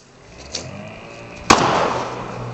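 A homemade pop-can cannon fuelled with isopropyl rubbing alcohol fires once outdoors, a sharp sudden bang followed by a rushing burst that lingers briefly, preceded by a faint small click.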